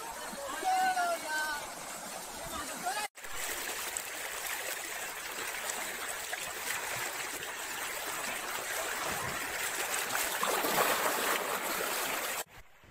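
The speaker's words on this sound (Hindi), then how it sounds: "नदी का पानी एकदम मस्त बहाव है" A river in the Dooars forest near Chamurchi on the Bhutan border flows steadily, its broad rushing wash continuous and fairly close, with a voice speaking briefly at the start over the water.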